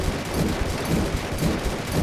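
Gunfire in DEEEER Simulator: rapid, dense bursts of loud shots rattle continuously for about two seconds over a booming low end, with no talking.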